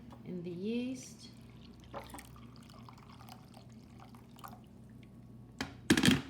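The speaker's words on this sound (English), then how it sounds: "so I just pour some water in the yeast" Water is poured into a bowl of yeast to start sourdough: a brief, splashy pour near the end, after a person speaks and some quiet handling sounds.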